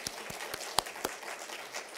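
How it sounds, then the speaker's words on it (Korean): Scattered, fairly quiet clapping from a church gathering audience, a handful of separate claps spaced irregularly rather than full applause, with no speech over it. "이 박수 한번 쳐야 되겠다는 거죠."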